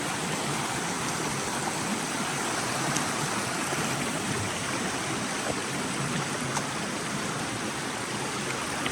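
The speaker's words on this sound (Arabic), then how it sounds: "هذا هو النهر ديال الجراندي سول اكبر نهر في البرازيل وسط الامازون" A large river flows through the Amazon rainforest in Brazil, a loud, constant rushing wash of water that stays even and unbroken throughout, with no voices over it.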